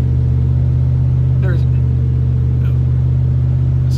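1949 Chevy driving, heard as a steady, heavy low engine drone that continues throughout, with someone talking over it at moments.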